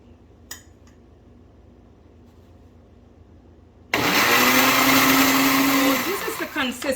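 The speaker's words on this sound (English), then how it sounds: "we are going to put our chia seeds in this blender" A Vitamix blender blending chia seeds roars in loudly after a few seconds of quiet, running steadily for about two seconds before the motor slows and winds down with some clatter.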